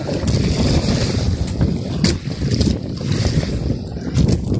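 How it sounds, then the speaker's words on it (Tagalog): Big sea waves surging around a small fishing boat in rough water, a loud, continuous wash and roar mixed with heavy wind buffeting the microphone. "Yan ang alon, malalaki."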